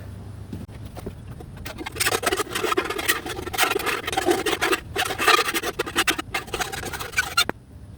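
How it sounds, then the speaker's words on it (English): A hand file is drawn in repeated rasping strokes to smooth the edges of a homemade 125-pound lifting stone, close and steady for several seconds before it stops. "Now I'm going to take a file and soften those edges up a little bit."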